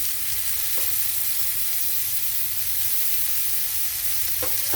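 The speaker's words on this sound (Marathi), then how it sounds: "आता आपण टोमॅटो टाकून घेऊ टोमॅटोला पण आपल्याला परतून घ्यायचं चांगलं" Tomatoes sautéing with onion for a spicy hotel-style mixed vegetable dish, giving a loud, continuous close sizzle with a couple of faint stirring knocks and no voices.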